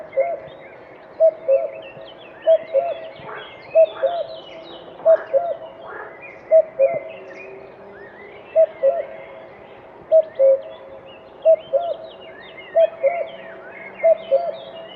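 A played recording of a common cuckoo's ascending call variation: repeated two-note coos, clear and moderately loud, spaced evenly about a second apart over a quiet background with faint other birdsong.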